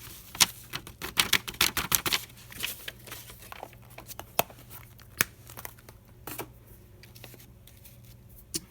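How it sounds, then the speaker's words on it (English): Paper napkin tag edges distressed for a craft journal, a run of quick scratchy rasps and crinkles, dense at first, then sparser, close to the microphone. "And then we're going to distress the edges."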